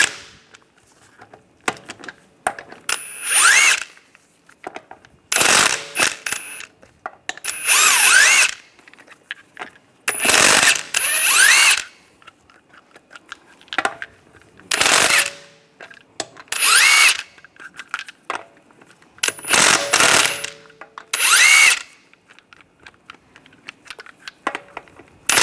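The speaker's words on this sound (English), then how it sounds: "take the lug nuts off with a 22mm socket" Impact gun zips lug nuts off a Cadillac SRX wheel with a 22mm socket, about eight loud close bursts of whirring rattle, each a second or so long, separated by short pauses and light clanking.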